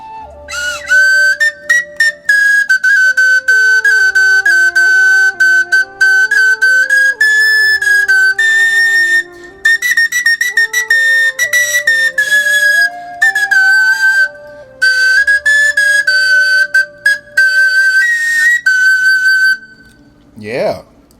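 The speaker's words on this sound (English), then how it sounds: "I don't know what that instrument is called, but it's a woodwind instrument" A Chinese wooden woodwind plays a bright, piercing melody of sustained and quickly changing notes with short breaks between phrases, solo and clear for about twenty seconds.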